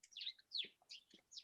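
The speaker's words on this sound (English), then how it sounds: "I can hear you got your little bird in the background tweeting" A small pet bird tweets in the background, sending a quick run of bright, high chirps and short whistles that are faint yet distinct against a quiet room.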